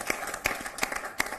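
A few separate hand claps from an audience greeting a poet at a televised Hindi poetry recital. They come at a steady, sparse rhythm and sound faint and distant rather than like full applause.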